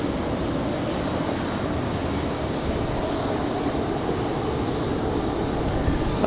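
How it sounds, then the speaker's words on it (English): An Air France airliner departing Raleigh-Durham International Airport for Paris gives off a continuous, fairly loud engine roar that stays steady from start to finish. "So Air France is out of here, off to Paris."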